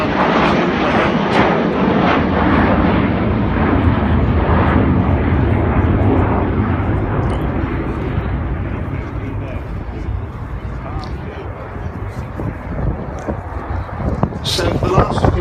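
Avro Vulcan XH558 delta-wing bomber flying a display at the 2015 Throckmorton Airshow, a loud, continuous, rumbling jet roar that fills the scene, with voices faintly present underneath.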